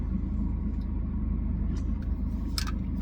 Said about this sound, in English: Car's been running for 12 and a half minutes, not moving